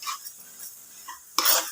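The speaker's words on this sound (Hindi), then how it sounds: "तो अब इसमें हम ऐड कर देंगे आलू, और अब इसे अच्छी तरह से मिक्स कर देंगे सारे मसालों को" Quiet scraping and clinking of a spoon as potatoes and spices are stirred in a pan, in a few short strokes ending in a louder scrape.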